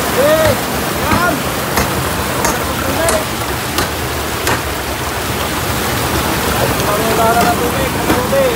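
Water rushing steadily and loudly through an irrigation channel fed from the mountains into farm fields, a continuous close roar with faint voices and chirps now and then.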